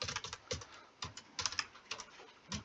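Quick, uneven clicks of a computer keyboard come in short bursts and pauses, close and fairly quiet, with no talking.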